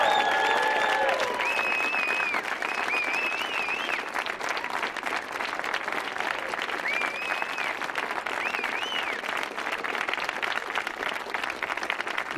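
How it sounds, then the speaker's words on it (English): Sustained applause from a concert audience for a youth jazz orchestra at an evening performance, dense clapping steady throughout with some cheering whistles and voices mixed in. "I think they deserve one more big round of applause."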